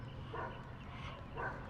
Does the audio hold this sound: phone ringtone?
no